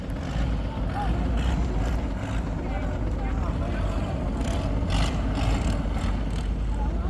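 A longtail boat engine, a converted old truck engine, drones steadily and loudly at close range, a coarse low rumble running the whole time with wind noise mixed in, off Laem Kruat Pier in Thailand.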